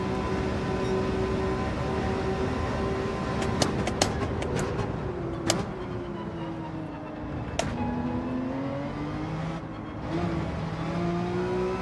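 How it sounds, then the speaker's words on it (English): A GR.3 race car in Gran Turismo 7 accelerates hard, with a continuous engine drone rising and falling through gear changes, and a few sharp clicks and brief transients over a dense, loud racing backdrop. "But the initial acceleration is really good on this car."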